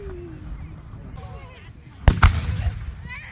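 Fireworks at an America 250th birthday celebration, a loud sharp burst followed by crackling and rumbling, with talk and whistling sounds before it.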